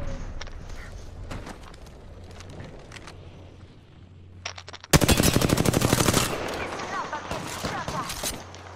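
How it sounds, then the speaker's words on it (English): Video game gunfire erupts in a loud, dense burst of automatic shots lasting over a second, then continues as scattered distant shots over faint background game sound. "Oh, you getting shot at."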